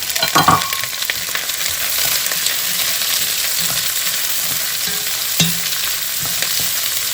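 Onions and carrots sauté in a soup pot for a sweet potato red curry soup, giving a broad steady sizzle with a clatter as they drop in at the start and occasional stirring knocks, close by and without talk.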